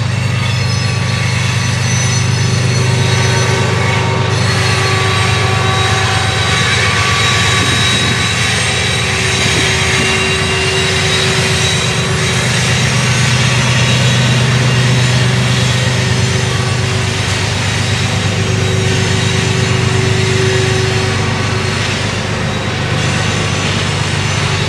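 The CSX Q452 freight train rolls past with distributed-power locomotives, a loud continuous low rumble and drone of engines and wheels that holds steady for the whole stretch, with no voices.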